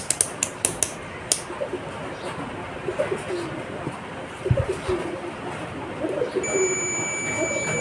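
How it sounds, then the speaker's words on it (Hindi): A multimeter's steady high-pitched continuity beep sounds continuously near the end, after a stretch of scattered clicks and handling noise, while testing a Bosch EDC17C55 ECU with a rail pressure sensor fault. "मल्टीमीटर को बीप मोड या डायोड मोड में सेट करेंगे"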